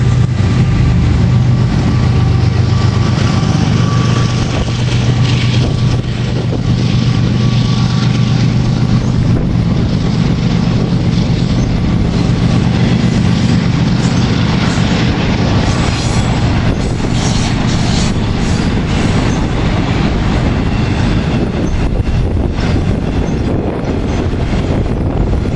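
A westbound CN autorack freight train led by locomotives 2336 and 2299 passes near Princeton, Ontario, making a loud, continuous rumble and clatter of wheels with faint squeals throughout.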